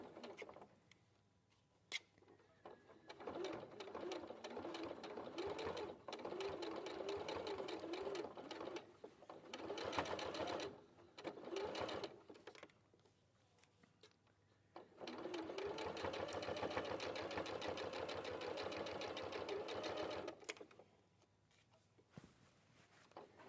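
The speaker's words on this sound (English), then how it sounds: "And then stitch that in place along the edge." A sewing machine stitches cream shirting and cotton binding along an edge, running loud and steady in two long bursts with a short pause and quieter handling between them.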